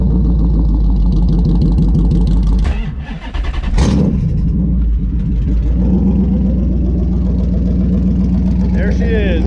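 A Hemi V8 swapped into an SN95 Mustang, run through a Holley computer, fires up and settles into a steady, loud, close idle with a deep rumble. A voice talks briefly over the engine.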